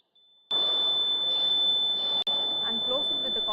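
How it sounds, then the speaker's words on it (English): A steady, high-pitched electronic buzzer inside a wooden room drones continuously with one brief cutout, over a rough background rumble. "inside the wooden room, the sound is made using a buzzer"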